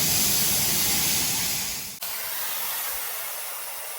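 Compressed air hisses loudly out of a military FMTV truck's air tanks as they drain, a strong steady rush that cuts off abruptly, then a quieter hiss continues and slowly fades.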